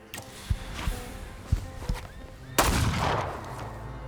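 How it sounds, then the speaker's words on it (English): Gunfire in The Thaumaturge video game, with several sharp shots spaced through the first half, then a louder, sustained burst of noise near the end. "I pulled out a gun?"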